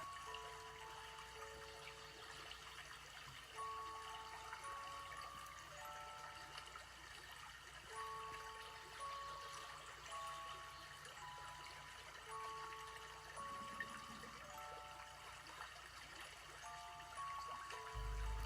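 Water trickles and pours onto water beads that swell as they soak, a soft continuous wash sitting low beneath steady background music for the whole stretch.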